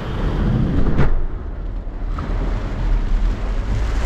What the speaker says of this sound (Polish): jakaś wichura